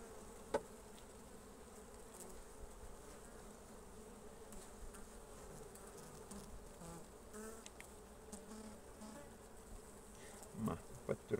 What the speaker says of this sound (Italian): dove c'è anche più afflusso di api